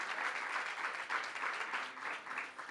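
A round of applause from the audience at an Albany caucus event, fairly faint and distant, steady overlapping clapping that carries throughout without a break.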